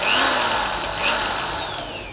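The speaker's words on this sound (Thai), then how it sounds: "หมุนเป็นสว่านธรรมดาปึ๊บ" A Total TG106136 impact drill, set to plain drill mode, spins at high speed, its whine dipping briefly and then slowly winding down, loud and close, with no talking.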